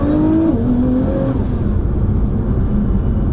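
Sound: sports car gearbox whining at speed

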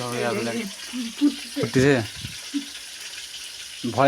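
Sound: fish frying in oil

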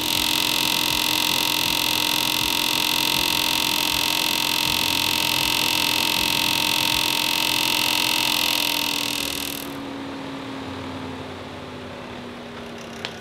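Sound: Seat Altea car cooling fan running

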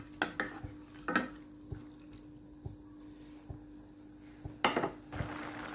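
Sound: pressing banana blossom into coconut soup pot

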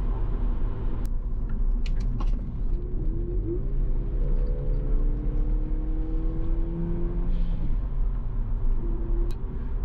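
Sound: Toyota Caldina 3S-GTE estate car driving

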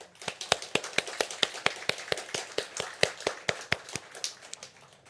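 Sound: congregation clapping in thanks

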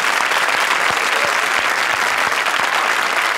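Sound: audience applause on a comedy show

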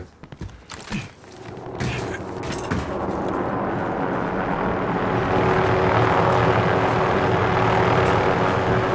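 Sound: helicopter flying overhead in the video game Warzone

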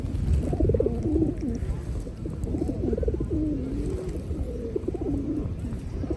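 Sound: pigeons cooing while being fed bread

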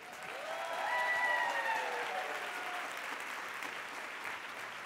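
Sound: applause

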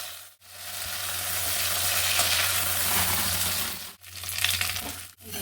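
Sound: vegetables frying in a pan

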